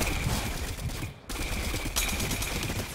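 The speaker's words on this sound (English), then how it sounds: "Somebody's shooting at me." Loud automatic gunfire in a Fortnite battle royale match, a continuous rattling burst that breaks off for a split second and then resumes just as dense.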